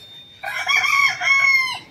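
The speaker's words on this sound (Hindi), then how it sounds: "ये मुर्गी है" A chicken on a farm, near ducks and a freshly laid egg, gives one loud, drawn-out call close by, with no talking.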